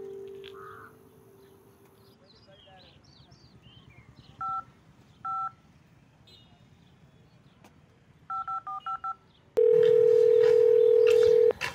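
A phone call is placed with two lone keypad beeps, then a quick run of several dialing beeps, and finally a loud steady telephone tone that sounds over a quiet background.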